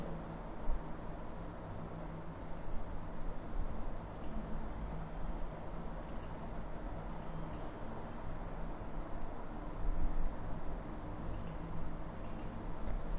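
Mouse clicks while uploading and installing a paid blogging theme on a computer, a few sharp ticks scattered over a steady noise bed, heard close and alone.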